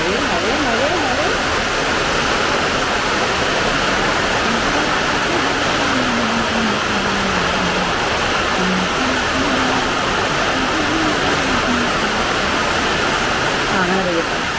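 Heavy monsoon rain pours steadily as a dense, even roar that fills the whole clip; a faint wavering tone drifts underneath.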